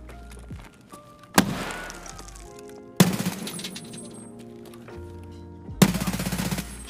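Three sharp, loud gunshots from a video game crack out at irregular intervals, each with a ringing tail over steady background game music and effects.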